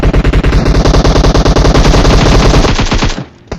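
Loud, sustained automatic gunfire in a video game as a bot is shot, a dense rapid burst of shots lasting about three seconds before cutting off abruptly, with no talking.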